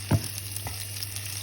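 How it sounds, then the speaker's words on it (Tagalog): Onions sautéing in a pan for kare-kare, a soft continuous frying sizzle with a short clatter at the start and faint stirring scrapes, no talking. "gisa po muna natin ang sibuyas"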